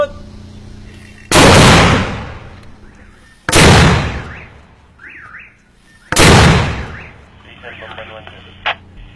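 Three heavy mortar rounds are fired by Marines into enemy territory during the fighting against ISIS in Marawi, each a loud close blast with a rumbling decay, spaced a few seconds apart, with faint background noise between.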